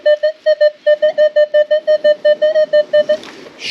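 A metal detector on an Australian beach gives a target tone of about a dozen evenly spaced, steady electronic beeps, loud and close, before a scraping rustle at the end.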